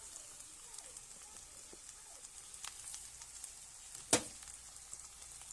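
Ginger and garlic fry quietly in a pan with oil, a faint close sizzle with small pops and one sharp clack of a utensil partway through; no voices.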